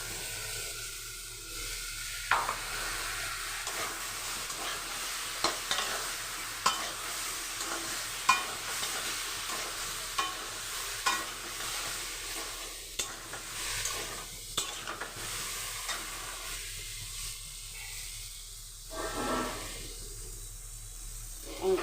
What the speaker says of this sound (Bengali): ভালো লাল লাল করে ভাজা হচ্ছে